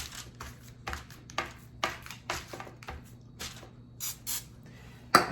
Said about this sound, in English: I like to give it one more spray on top, just kind of wet it up